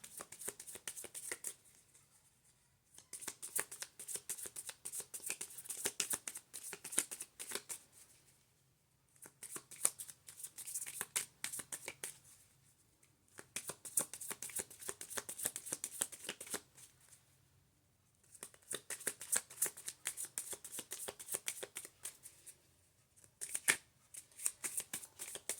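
Lenormand cards being shuffled by hand in long crisp riffling bursts, several passes separated by short quiet pauses, close and fairly loud.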